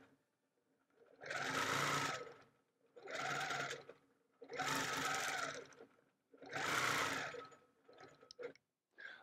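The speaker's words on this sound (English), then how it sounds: "I'm going to continue over and around within the throat space," A sewing machine quilts a Gypsy Wife quilt, stitching in four long, steady bursts separated by brief pauses, then a few short stop-start runs at the end; close and clear with no talking.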